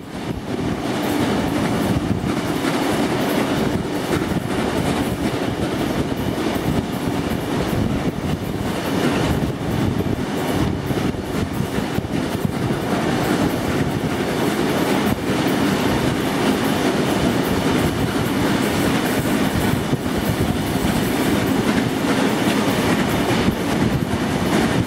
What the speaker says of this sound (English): The two locomotives are now seen passing through Beverly Hills.